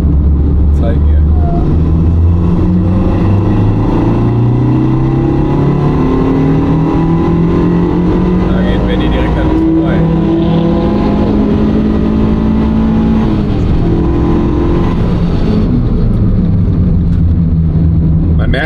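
An Abarth driven on a wet race track at Bilster Berg, engine droning and rising and falling steadily as it accelerates and brakes, loud and continuous, with someone talking over it throughout.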